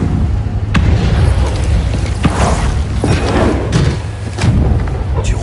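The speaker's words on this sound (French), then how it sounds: "Ça sent l'explosion du pont, ça." Heavy booming thuds and a dull explosive rumble of a bridge exploding in the video game Spider-Man 2, over a constant loud low roar, with sharp impacts scattered throughout.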